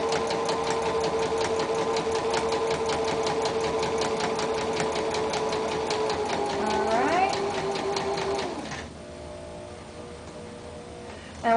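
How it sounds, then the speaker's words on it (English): A sewing machine hums continuously while stitching a dart with quick short backstitches, its motor pitch sliding near the end before the run drops to a quieter idle. "I'm going to do just quick short back stitching so nothing comes out, and then just stitch along"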